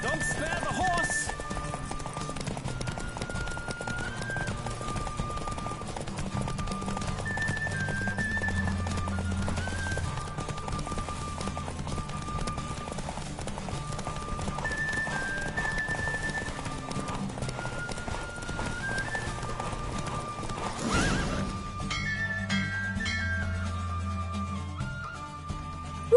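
Horse galloping with repeated clip-clop hoofbeats and occasional neighing in The Witcher 3 video game, a steady rhythmic run under game music and other noise, with a brief louder burst near the end.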